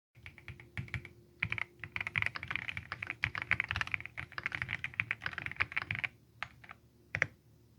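Rapid, steady typing on an Epomaker Split65 split mechanical keyboard, close and clear, with dense clusters of keystroke clacks broken by brief pauses and a single isolated press near the end.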